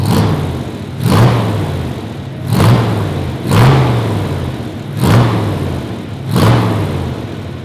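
A 1966 Chevrolet Corvette roadster engine runs loud and close, rising in five or six strong revving surges about once a second, with a rough rumble between the blips.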